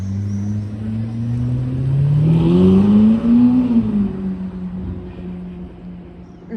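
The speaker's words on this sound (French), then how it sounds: "la SF90 qui vient de passer violette là, incroyable" A purple Ferrari SF90 hypercar passes on a street in Deauville, its engine note rising as it nears, peaking loudly mid-pass and then fading as it pulls away.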